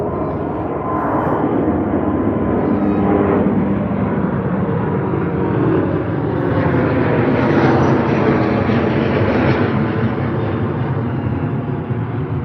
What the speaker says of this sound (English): The A330-900 taking off for Virgin Atlantic out from London Heathrow off to Tampa in Florida